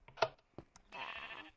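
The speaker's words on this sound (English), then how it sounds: "sheep, did you eat grass?" Sheep in Minecraft bleat: a couple of short, sharp blips followed by a longer wavering bleat, close and clear against near silence.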